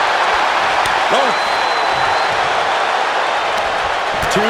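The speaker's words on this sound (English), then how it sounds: "Listen to this crowd," Wrestling crowd in WWE 2K25 roaring as a loud, steady broadband wash that fills the whole span, with a commentator's voice and brief impacts rising over it.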